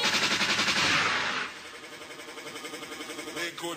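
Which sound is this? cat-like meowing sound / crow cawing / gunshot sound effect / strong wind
gunshot sound effect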